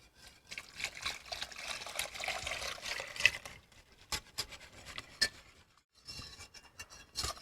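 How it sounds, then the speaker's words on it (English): A whisk scrapes and swishes through flour roux stirred into the liquid of a loaded baked potato soup, a steady wet rubbing that comes and goes in irregular strokes with a few brief pauses. "Just keep whisking through to make sure that all the flour gets dissolved into the liquid"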